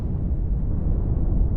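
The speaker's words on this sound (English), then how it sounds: "That was an explosion of sufficient magnitude to cause a breach." A low, rumbling explosion in Star Trek Online, heavy enough to breach a ship's hull, roars on steadily and loudly throughout with dense low-end energy and no voices.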